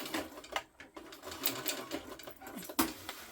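A sewing machine stitches a pocket in place on a crossbody hip bag, giving a quiet, uneven run of mechanical clicks and taps with short pauses, heard close and faint.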